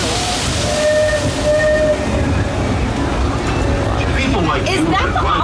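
The Disneyland Railroad train rolls along its rails with a continuous loud rumble and clatter, while a steam whistle sounds in long tones and a crowd of riders chatters in the background.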